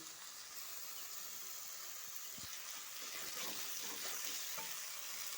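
Spice masala with turmeric is sautéed in oil while cooking papaya, giving a continuous soft frying sizzle with faint scraping stirs, fairly quiet and steady throughout.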